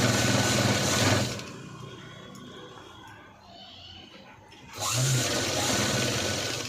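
A sewing machine stitches a blouse lining in two loud, steady whirring runs, one at the start and one at the end, with a quieter pause between them.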